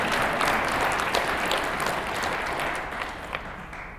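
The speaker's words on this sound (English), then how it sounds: "let's give both of them one more round of applause" Audience applause at a fall jazz band concert, a steady wash of many hands clapping that holds evenly and then tapers slightly toward the end.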